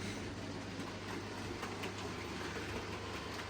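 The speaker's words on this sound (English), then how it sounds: "We'll just let this DMU do a few miles around the railway today." Hornby model DMU running on a model railway: a steady, fairly quiet whirring rumble with faint rhythmic clicking, unbroken for the whole stretch.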